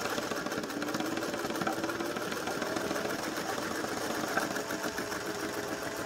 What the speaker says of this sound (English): now I'm going to sew all the way around this